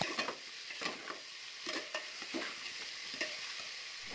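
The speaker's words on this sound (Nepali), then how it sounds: "मासुलाई हालेर मजाले मिक्स गर्नुपर्छ" Buffalo meat and onions frying in a pan while being stirred for a Nepali-style radish buff curry, with a steady close sizzle and repeated scraping strokes of the spoon through the 4-second stretch, no talk.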